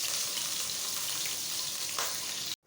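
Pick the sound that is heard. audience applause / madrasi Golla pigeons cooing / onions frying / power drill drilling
onions frying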